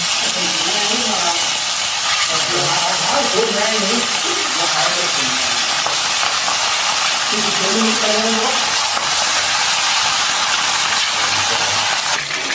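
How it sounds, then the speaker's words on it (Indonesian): Loud, steady sizzling and hissing of chicken frying in hot oil in a wok fills the whole stretch, with faint murmuring voices underneath. "Kalau sudah panas, kita masukkan ayamnya."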